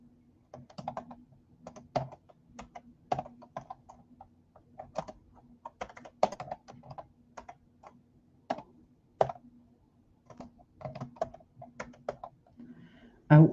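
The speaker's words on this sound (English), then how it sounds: "And we're going to type in" Typing on a computer keyboard while entering text in a small font inside a software program. Close, irregular clicks and taps come in quick bursts with short pauses, followed by a louder clack at the very end.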